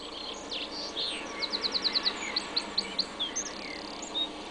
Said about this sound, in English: the birds are whistling